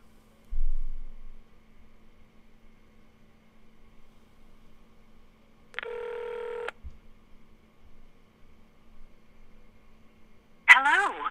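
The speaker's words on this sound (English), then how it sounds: "I'm just dialing now, and I'll put it on speaker." Tones of a phone dialing a company line on speakerphone, with one sustained steady beep midway and a brief burst of tones at the end, separated by near silence.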